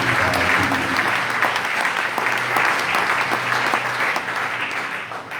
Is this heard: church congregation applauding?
yes